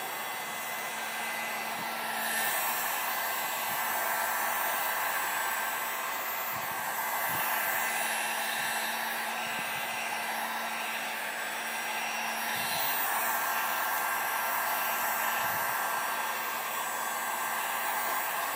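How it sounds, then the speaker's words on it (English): A heat gun blows steadily while heating a car emblem for removal, a continuous close whooshing roar with a faint hum underneath and slight swells in loudness, alone without talk. "I'm just playing with my heat gun here."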